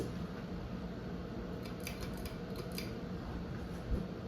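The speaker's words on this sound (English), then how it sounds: "This thing actually hauls for being such a small fan, or such a small motor, it's such a big fan." A Sears Hugger ceiling fan runs on its high setting, giving a steady, even broadband whoosh of moving air with a faint mechanical hum underneath and a few light clicks, continuous and fairly quiet throughout.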